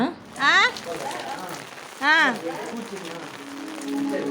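Steady rain patters on a surface throughout at a temple during Navratri, while a voice speaks in two short bursts over it.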